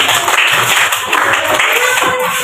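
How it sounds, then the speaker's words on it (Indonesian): A classroom group of schoolchildren claps together, a dense, steady patter of many hands that carries evenly through the whole stretch without pause. "Oke, tepuk tangan buat kita semua."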